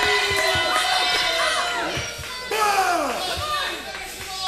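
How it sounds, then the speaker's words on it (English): A loud crowd at a professional wrestling show roars and cheers continuously, with excited shouts rising and falling across the whole stretch. "And listen to the crowd."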